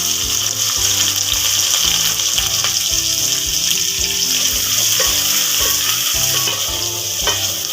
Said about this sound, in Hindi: प्याज को तकरीबन 1 मिनट तक फ्राई करेंगे